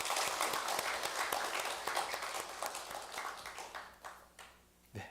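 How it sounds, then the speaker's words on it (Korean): A church congregation at a Sunday service applauds, a dense, fairly quiet burst of clapping that thins out and fades over about five seconds, ending in a few scattered claps. "박수하시겠습니다."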